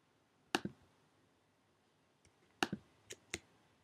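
A computer mouse is clicked while drawing with the pen tool in Illustrator CS5: crisp, faint clicks, one pair, a short pause, then a quick cluster of four, in a quiet room.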